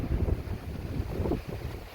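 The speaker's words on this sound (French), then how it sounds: "Ça y est, le vent revient." Wind gusts blow steadily outdoors in a garden, a rough, rumbling rush buffeting close to the microphone with no other sounds over it.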